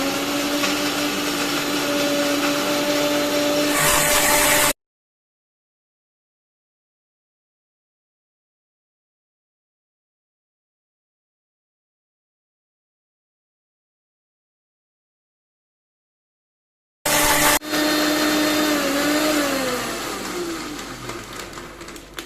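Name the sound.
mixer grinder grinding mulberry mixture in a jar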